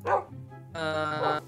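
A dog barks in a video game, giving two quick close yaps about half a second apart.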